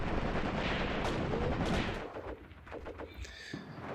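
Machine guns fire in the tactical war game Graviteam Tactics: Mius Front. Dense, rapid bursts of loud gunfire dominate the first half, then thin to scattered, more distant shots against a quieter background.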